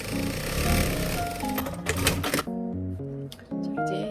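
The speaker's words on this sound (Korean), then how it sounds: "자, 후드 입구 부분을 이제 이 부분 이렇게 박음질 해줄 거예요." A sewing machine stitches the opening of a hoodie with quick, rattling needle strokes, stopping and starting in short runs while steady tonal sounds carry on underneath.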